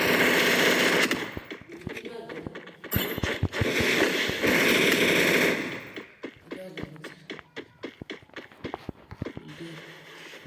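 M500 fire in the Free Fire video game comes as sustained bursts of bright shots, followed by a stretch of separate, spaced single cracks, close and fairly loud.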